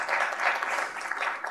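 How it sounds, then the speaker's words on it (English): Audience applause after thanks to Texas Instruments for hosting an IEEE seminar venue, a steady wash of clapping from a modest crowd, fairly distant and even throughout. "Let's have a round of applause for TI."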